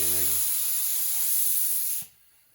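A paint sprayer hisses steadily in a garage while painting door jambs, a loud, close, continuous spray that cuts off abruptly near the end, with a brief low tone at the start.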